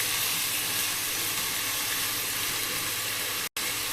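Argentinian king prawns fry in a wok over a gas flame, a dense even sizzle and hiss holding steady and close, cut by one brief dropout near the end.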